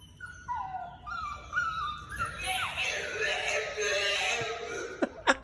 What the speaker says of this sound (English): This dog wasn't too happy about being at daycare.